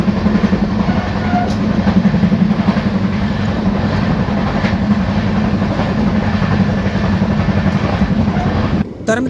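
Heard from inside the carriage at night, the Amravati Pune Express sleeper train rolls along with a loud, continuous low rumble and faint, occasional rail clicks, ending with a brief drop and a few knocks.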